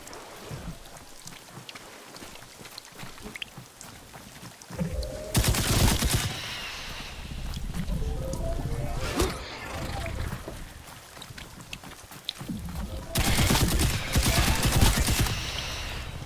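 Rapid automatic gunfire in a shooter video game erupts in two dense, loud bursts lasting a second or two each, separated by quieter in-game ambience and scattered shots, with someone talking at times.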